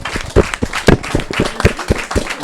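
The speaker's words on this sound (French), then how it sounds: "On va s'arrêter là en remerciant et en applaudissant Aurélien, Anja, Félix, Marie, Inès," Audience at a screening applauding a film director and team, scattered hand claps with uneven rhythm, fairly close and moderately loud, mixed with light crowd noise.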